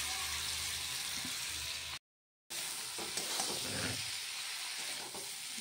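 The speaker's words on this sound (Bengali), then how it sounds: "আলু ভেজে রেখেছিলাম, কষিয়ে নেব।" Already-fried potatoes and cauliflower being sautéed in spice masala for a vegetarian curry, giving a continuous loud sizzle with scraping stirs, broken by a brief silent gap.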